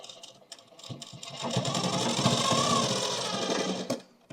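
A sewing machine runs a double line of stitching along the side seam of a suit, starting with a few short bursts, then whirring steadily and close for about two and a half seconds before stopping abruptly.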